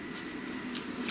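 Tarot cards being shuffled by hand during a reading: a soft, continuous riffling and papery flutter, close and moderately quiet, with a few brighter slaps of cards against each other.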